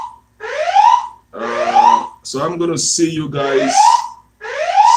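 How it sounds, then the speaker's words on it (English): A loud alarm sounds in repeated rising whoops, each swelling and cutting off in a steady cycle, while a person speaks briefly in the middle of it. "the alarm is coming up so I have to leave now"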